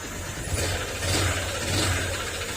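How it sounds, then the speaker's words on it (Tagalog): Honda Click 125 scooter engine with a faulty connecting rod runs steadily up close, giving a loud, continuous mechanical drone with slight swells in level and no talking. "kapag ganyan tunog ng makina mga sir matik po yan"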